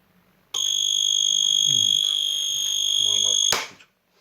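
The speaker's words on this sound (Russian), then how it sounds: "Зазвучит звуковая сигнализация." A loud, steady electronic alarm tone from a home cheese-maker pasteurizer (Premium 15/28) sounds for about three seconds, then cuts off abruptly, with a person speaking faintly underneath.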